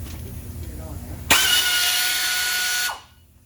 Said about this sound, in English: There's an air ratchet.